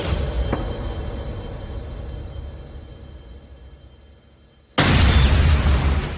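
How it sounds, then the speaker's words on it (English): A deep, rumbling explosion booms in the distance in an anime scene, followed by a sudden loud roaring burst of noise that fills the end. "there's a massive explosion in the distance."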